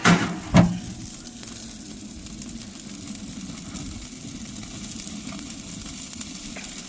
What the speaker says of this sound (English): it's already seared from last time, because that's the other side of the steak, but we'll do it a little bit longer